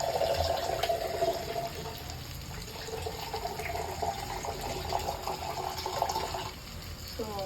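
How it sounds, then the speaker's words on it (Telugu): A glass of water is poured into dal cooking in a pot, giving a soft, steady trickle and splash at moderate distance, with faint kitchen background and no talking. "ఇందులో వచ్చి ఒక గ్లాస్ ఆఫ్ వాటర్ వేసుకున్నాము"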